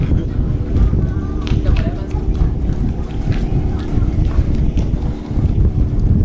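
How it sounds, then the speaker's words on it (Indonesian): A motorboat engine rumbles steadily in the background at Banda Neira, Indonesia, low and continuous, with wind buffeting the microphone throughout. "Ini ada suara kapal di belakang."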